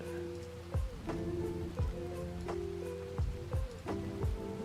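Steady rain in a video game under development, with a dense continuous patter of drops across the whole stretch and several sharper, louder splashy hits recurring at irregular intervals over a low tonal background.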